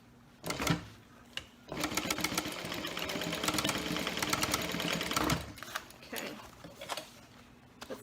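A home sewing machine stitches a zipper pouch, first in a couple of short bursts, then in one long steady run of rapid mechanical whirring, and finally in a few brief back-stitch spurts in a quiet room.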